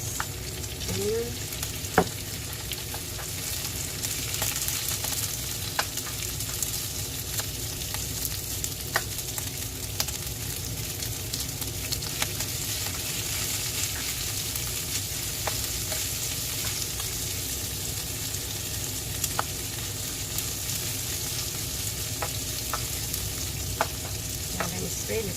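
Onion frying in a pan for prawn sinigang, a steady sizzle running throughout with occasional small clicks and pops from stirring, close and even in level with no talking.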